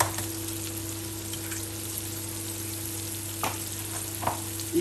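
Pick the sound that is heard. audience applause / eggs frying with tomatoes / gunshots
eggs frying with tomatoes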